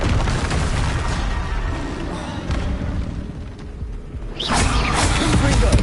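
Loud, heavy booming blast from the Bombarda spell in Hogwarts Legacy, a deep rumbling explosion with a sharper burst near the end, dense and close amid game sound.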